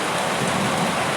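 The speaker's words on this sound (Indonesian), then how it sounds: "karena kondisi sekarang tuh lagi hujan dan hujannya lumayan deras" Heavy, steady rain pours down outside a house in a dense, continuous hiss with low rumbling underneath, loud and close, with no voices.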